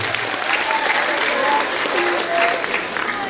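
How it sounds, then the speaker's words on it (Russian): Sustained, dense applause from a festival audience in Sochi, many hands clapping together at an even, loud level for the whole stretch, with a faint voice in the background. "Поаплодируйте, дорогие друзья!"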